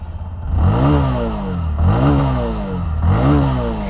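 A Bajaj Platina 110 motorcycle engine revs up and settles three times in rhythmic cycles, its exhaust note loud and close, with no talking.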